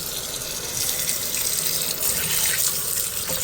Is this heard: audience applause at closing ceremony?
no